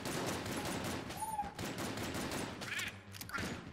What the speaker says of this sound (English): Now I'm gonna start using the Plague Pistol.